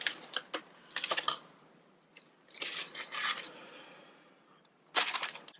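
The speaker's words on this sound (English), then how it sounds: "carefully remove the foil" Aluminium foil is peeled and crinkled off an Instant Pot cheesecake set on a trivet, giving close, dry crackling bursts in several short clusters with quiet pauses between.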